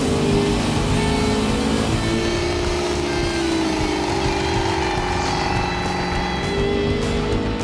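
A 347 short block engine runs on a dyno during an engine builders' power and torque competition, a loud, steady, continuous roar with a slight rise and fall in pitch and no voices over it.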